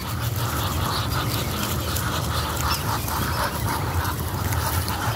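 A flock of ducks at a park pond quack and honk continuously, a dense busy chorus of fowl calls over steady outdoor noise, with no talking.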